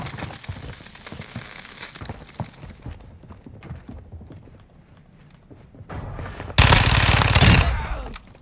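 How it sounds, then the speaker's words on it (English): Scattered bursts of rapid Modern Warfare 2 gunfire crackle at a distance, then a louder, closer volley rattles off near the end. "I hear gunfire."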